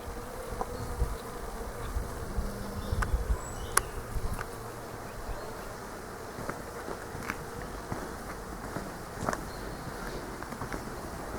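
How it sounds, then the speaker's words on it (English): A nest of bees buzzing loudly in a peaceful churchyard on a warm day, a steady, even drone that holds throughout with faint rustling beneath. "I can hear a bee nest."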